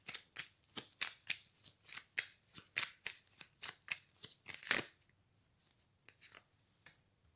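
Oracle cards are shuffled by hand for a reading in a steady, close run of soft riffling flicks lasting about five seconds, ending in a quick flourish, followed by a few faint taps and card sounds in near silence.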